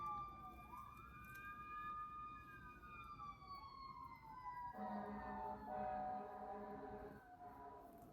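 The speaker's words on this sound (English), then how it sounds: "And now there are sirens outside." A siren wails outside at a distance, its pitch sweeping up and down, then shifting to a different rising and falling pattern, faint under a quiet room.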